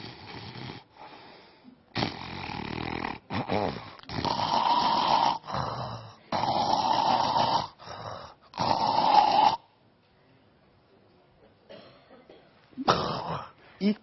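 A man imitates snoring, acting out noisy breathing during sleep: a series of rough, rattling snore sounds on inhaled and exhaled breaths, close and clear, separated by short quiet pauses.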